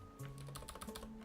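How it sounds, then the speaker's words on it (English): Quick keystrokes clatter on a computer keyboard, a rapid irregular burst of sharp clicks close to the microphone, heard alone over a faint steady hum. "It does catch that sound of me typing"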